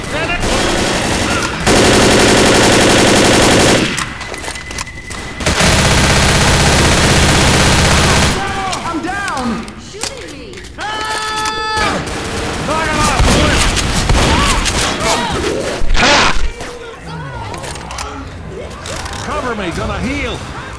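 Rapid bursts of automatic gunfire from the Left 4 Dead video game as zombies are shot, loud and repeated in fusillades, alternating with stretches where several players talk over scattered shots.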